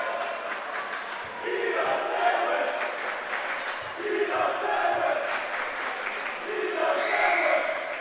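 A high school basketball crowd in a gym chants together in rising and falling waves, moderately loud and reverberant, with rhythmic group voices and scattered claps that swell near the end.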